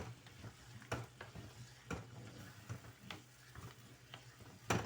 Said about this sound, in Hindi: मैं बहुत तेज़ से चम्मच चला रही हूँ